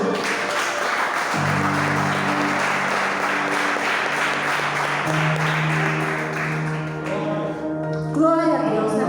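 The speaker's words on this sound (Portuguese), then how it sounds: "Aplaude o Senhor." Church congregation applauding during an evening sermon, dense clapping under sustained keyboard or organ chords, with voices and a brief louder swell near the end.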